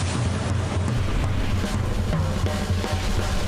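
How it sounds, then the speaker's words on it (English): Strong wind roars steadily across the microphone by the sea at North Narrabeen during a surfing contest, a constant loud rumbling gust with surf noise underneath and no voices. "Wild and windy day down here in North Narrabeen."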